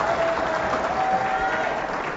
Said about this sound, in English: The crowd showing their appreciation for this young man's effort.